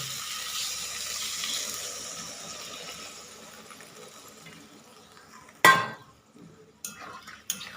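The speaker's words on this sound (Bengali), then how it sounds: "জল দিয়ে দেবেন" Water poured into a pan of vegetarian eggplant curry after the masala has been cooked down, a hissing pour that fades out, followed by a sharp clatter and a few clinks of a pot and utensil.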